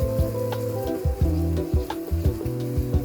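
A peppercorn mustard sauce bubbles and sizzles in a pan, a close, steady frying crackle with small pops and a faint tonal hum underneath, no voices.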